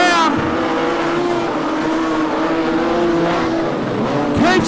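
Modified production race cars race at Lismore Speedway, engines revving loudly with rising and falling pitch as they pass close by, a continuous roar with a fresh surge of revving at the end.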